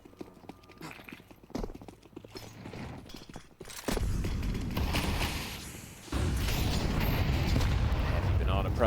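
An HE grenade detonates in a Counter-Strike esports match, heard as sudden loud booming bursts that jump out over the steady game noise while voices carry on in the background.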